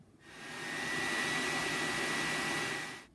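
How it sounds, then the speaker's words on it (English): A hooded hair dryer whirs steadily, a loud even airy hum that fades in at the start and cuts off at the end. "I'm gonna get into my regular wash routine of drying my hair thoroughly under a dryer."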